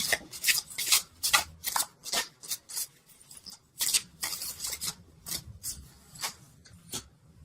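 A tarot deck is shuffled and handled up close to pull a card, producing quick papery riffles and rubs in irregular bursts with short quiet gaps.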